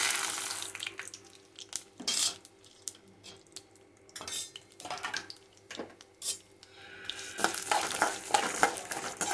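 Dried red chillies, chana dal and urad dal frying in hot oil while being stirred in a pan, with soft sizzling and intermittent scraping and clinks of a spoon against metal, close and fairly quiet.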